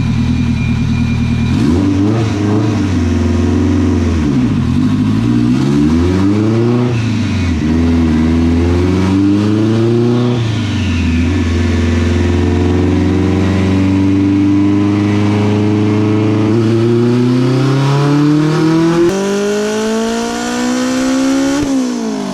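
A turbocharged Honda H22 engine in an EK hatchback revs through repeated dyno pulls, loud and close, its pitch sweeping up and down several times before climbing steadily near the end. No one speaks.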